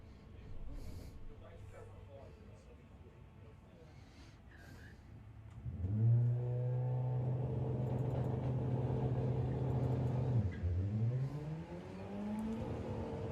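Volkswagen drag cars launch at the VWDRC 2022 National Finals at Santa Pod: after a quiet lead-in, a loud engine surges into a rising rev, drops and climbs again, with commentary running over it.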